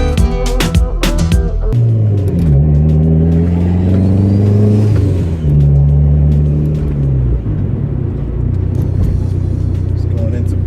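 Turbocharged 2005 Dodge Neon SRT4 engine accelerating into boost, with its turbo pipe reported to have come off. Loud, close engine drone that rises and shifts in pitch throughout, with a few sharp clicks at the start.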